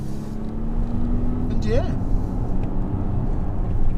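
Cabin of a 2021 Volvo XC90 T8 Recharge hybrid SUV, weighing 2.7 tons, accelerating hard out of corners, with a steady low engine and road drone swelling beneath someone talking briefly.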